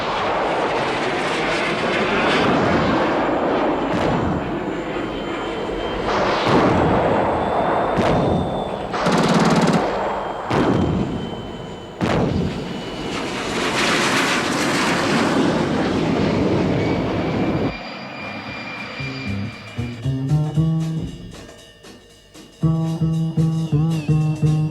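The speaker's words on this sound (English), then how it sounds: "The Fugas, training planes modified for the purpose, hit masses of vehicles with great accuracy." Fouga training planes modified for ground attack strike masses of vehicles in military convoys during the June 1967 Six Day War. A loud, continuous roar is broken by rapid bursts of gunfire and heavy blasts, then grows rougher and more uneven near the end.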